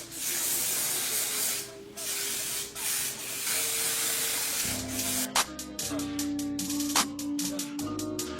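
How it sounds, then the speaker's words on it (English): Hair spray edge booster misted onto the head during a glueless wig install, a long soft hiss that runs for several seconds close up, followed by quieter rubbing and handling sounds. "I'm gonna just take the spray and spray it on my head"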